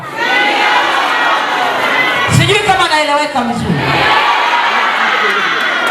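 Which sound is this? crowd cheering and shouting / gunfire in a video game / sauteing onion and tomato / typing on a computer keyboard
crowd cheering and shouting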